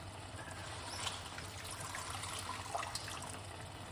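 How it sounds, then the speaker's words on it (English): Spinach is washed with baking soda under running water, making a faint, steady trickle and splash close by, with light handling noises. "So I wash off these with some baking soda, spinach."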